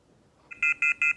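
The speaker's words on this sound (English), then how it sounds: "the nurse will take the PDM wand, turn it on, and slowly wave it over the patient until it beeps" A handheld PDM wand used on a patient in a medical setting gives three short, evenly spaced electronic beeps, clear and close, after a brief quiet start.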